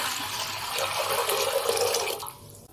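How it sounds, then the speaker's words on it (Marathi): Water poured by the cupful into a pot for papad dough, a loud, close continuous splashing and gurgling stream that tails off at the end. "तर याच कपाने मी 9 कप पाणी घालणार आहे। पाणी घालूयात आपण।"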